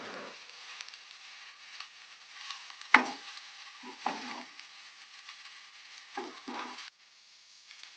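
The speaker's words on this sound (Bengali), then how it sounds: "একটু নাড়াচাড়া করে নেব যাতে সবগুলো মিক্স হয়ে যায়" Vegetables and pre-fried potatoes being stirred together in a pan for masala egg pasta, with a soft continuous sizzle and scattered scraping and clinking strokes of a spatula, close and fairly quiet.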